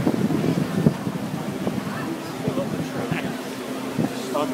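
Heavy downpour at the 2011 Silverstone F1 race, a steady close hiss of rain and wind buffeting on the mic, with voices talking over it throughout.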